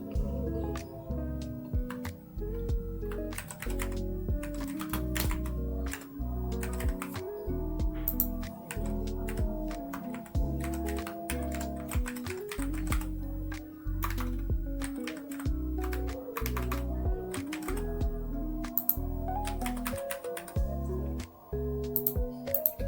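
Data is typed on a computer keyboard in steady bursts of soft clicking keystrokes, close and continuous for over twenty seconds, layered over a low musical background bed.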